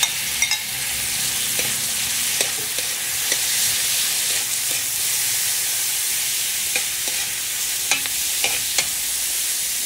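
Meat with garlic and onion is sautéed for pansit in a hot pan, giving a continuous bright sizzle. Intermittent stirring clicks and scrapes of the utensil sound close by, and no one speaks.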